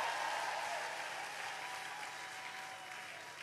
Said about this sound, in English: Help me clap for her.